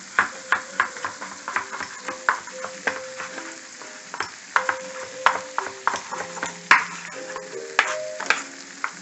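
Fresh spinach sautés in a hot pan, a continuous sizzle broken by regular clinks and scrapes of a utensil stirring against the metal, close and with no talking.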